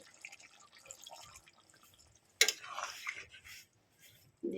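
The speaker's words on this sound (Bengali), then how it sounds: "এখানে বাটি ধোয়া জলটা আমি দিয়ে দেবো" Rinse water from a bowl is poured into a pan of cauliflower roast: a sudden splashy gush midway, then a softer trickle, and another short splash right at the end, all fairly close with no talking.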